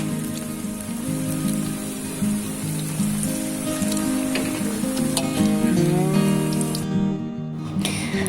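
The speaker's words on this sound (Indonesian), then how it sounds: "ini kita goreng untuk kedua kalinya ya teman-teman" Banana fritters sizzling and crackling in hot oil during a second frying, a steady dense frying hiss with a low hum running underneath, no talking.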